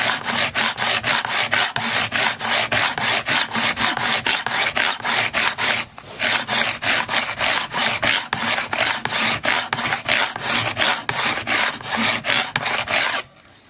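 Metal frets on a Sunn Mustang Strat-style guitar being filed, a steady run of rhythmic rasping strokes up close and loud, with one brief pause midway and no talking.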